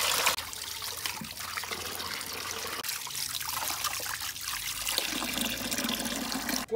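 Tap water runs and splashes steadily while slime is rinsed off a white eel in a kitchen, a close, continuous trickle with small shifts in flow and no talk.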